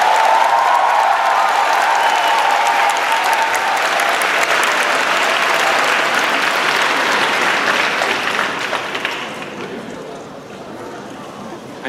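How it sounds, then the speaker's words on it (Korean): A large university lecture audience breaks into loud, sustained applause and cheering as a presidential candidate takes the stage, the clapping holding steady before tapering off near the end, with voices mingled in. "큰 박수 부탁드립니다."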